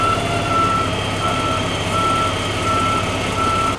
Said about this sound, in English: the 75-ton crane truck took the cemetery service road to the mausoleum plot